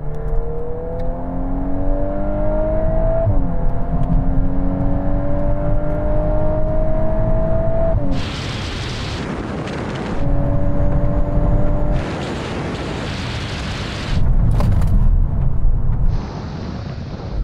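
A VW Golf R and a Civic Type R rev up through the gears in a rolling drag race from 50 mph in third, the pitch climbing steadily, then breaking into bursts of loud, roaring acceleration with whooshing wind between shifts.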